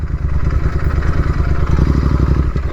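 A Royal Enfield GT 650 motorcycle engine runs steadily, a loud, close, low throbbing rumble with a rapid even pulse that holds unbroken throughout.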